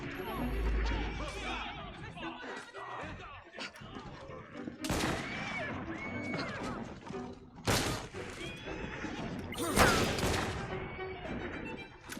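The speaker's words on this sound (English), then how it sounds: "I'll shoot her down." Gunfire in Assassin's Creed Syndicate: scattered sharp shots and bursts come amid crashes and other game sounds, with voices talking in between.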